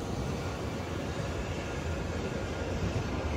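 A long Hapi-Line Fukui train of twelve 25-metre-class cars runs with a continuous low rumble and a steady broad roar of wheels on rail, even and moderately loud with no talk.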